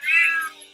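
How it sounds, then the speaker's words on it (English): A cat's single short meow from a video game, loud and close with a bright rising-falling tone, fading quickly into quiet background. "Damn cat."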